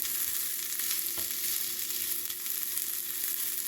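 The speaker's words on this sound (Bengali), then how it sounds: "এখন আমরা এটার মধ্যে যে একটা পেঁয়াজ কেটে রেখেছি কুচি কুচি করে, পেঁয়াজটা দিয়ে দিব। দিয়ে 2 মিনিটের মতো নাড়বো।" Finely chopped onion fries in a pan for a radish bharta, with a steady close sizzle and soft stirring throughout and no talk.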